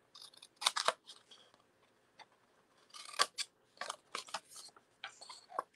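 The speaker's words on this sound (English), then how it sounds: "we'll go ahead and cut just right along the score line" Scissors cutting paper along a score line in a quiet room, a series of crisp close snips coming in irregular bursts with short pauses between them.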